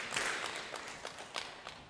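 A conference audience claps together on cue, a short burst of scattered hand claps in a large room that fades into thinner, separate claps.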